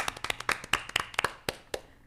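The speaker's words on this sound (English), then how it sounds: "we gonna applaud you now for what you done been through." Council meeting audience in Lincoln Heights clapping for the Vice Mayor: a short burst of uneven, scattered hand claps from a small group in a room, tapering off after about two seconds.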